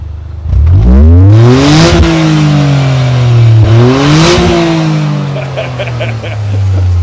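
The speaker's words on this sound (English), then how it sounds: "I want to get some exhaust note." A Toyota sports car engine revs hard twice, the exhaust rising and falling in pitch, loud and close, then settles into a steady idle rumble.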